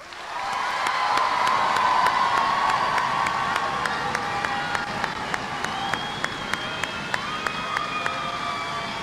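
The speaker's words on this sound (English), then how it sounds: "Ladies and gentlemen, please join me in a round of applause for these American soldiers." An audience at an Army basic training graduation ceremony at Fort Jackson claps and cheers for the graduating soldiers, a dense, sustained applause with scattered shouts that stays loud throughout and thins slightly toward the end.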